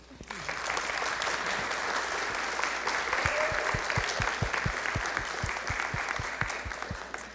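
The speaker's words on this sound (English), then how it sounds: "Give him a round of applause." Audience applause at a city council meeting, steady clapping that sustains for several seconds at an even level, with a few sharper individual claps standing out.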